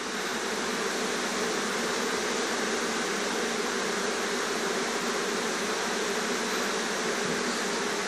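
Inside an opened beehive, a dense, loud hum of bees fills the air steadily without pause.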